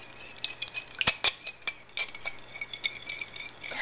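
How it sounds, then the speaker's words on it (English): Hoe cake batter with honey is whisked in a bowl, a quiet run of metallic clinks and scrapes with a few sharper taps against the side, close and without any voices. "Whisking it together."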